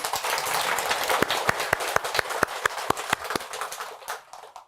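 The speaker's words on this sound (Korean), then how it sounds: "박수 한번 쳐줄까요?" An audience at a Buddhist dharma talk claps together, starting as a dense burst of many hands, then thinning into a sparse run of individual claps that trail off toward the end.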